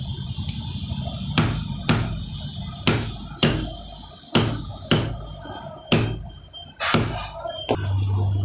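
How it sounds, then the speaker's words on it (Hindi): Sharp metallic hammer blows knock a tight rotor field coil out of its slot after the field has been opened, about eight strikes in a steady, fairly evenly spaced rhythm, close and loud with a low hum beneath. "तो इसको हम ठोकेंगे"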